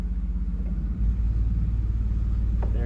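A pipe organ's digital 32-foot contrabass stop gives a deep, steady low rumble that swells after a brief lead-in and keeps droning, felt more as vibration than heard as a pitch, in a Catholic church.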